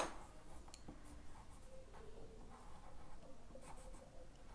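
A golden colored pencil rubs across paper in soft, close scratchy strokes, quiet and continuous with slight rhythmic pulses.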